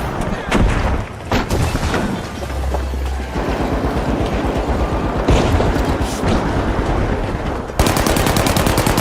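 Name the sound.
grenade explosion and gunfire in a video game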